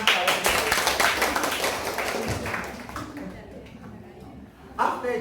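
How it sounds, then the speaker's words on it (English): An audience of workshop participants claps, a burst of many hands smacking together that fades over a few seconds, with a brief renewed patter near the end and a speaking voice in the mix. "Can we give a hand clap?"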